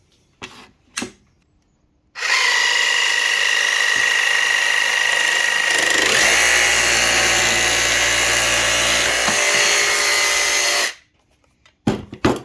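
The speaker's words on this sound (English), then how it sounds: "So as you can see, we've used our traditional jigsaw blade, and it's left quite a rough edge on our face side" A jigsaw with a traditional upstroke blade cuts laminate in a loud, steady buzzing rasp that lasts about nine seconds. A few quiet knocks and clicks come before and after the cut.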